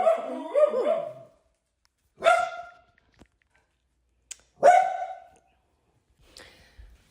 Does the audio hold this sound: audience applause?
no